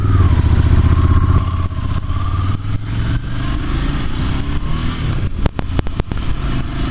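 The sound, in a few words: 2019 Ducati Monster 797 motorcycle riding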